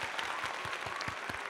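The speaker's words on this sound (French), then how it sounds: "On applaudit." A small group claps together in a faint, steady patter with soft rhythmic thumps, celebrating a colleague at a French talk show, with no talking over it.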